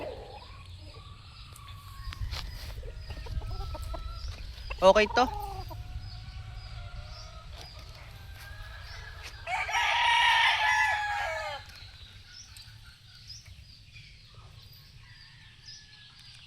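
A gamefowl rooster crows and clucks nearby in short bursts, with one longer crow standing out, over a low background hum and a brief spoken word.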